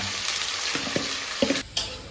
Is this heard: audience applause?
no